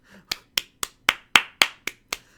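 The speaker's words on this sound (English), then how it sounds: "if you couldn't hear, that was me clapping" A streamer claps hands eight times in a quick, steady run, each clap sharp and close, with no talk.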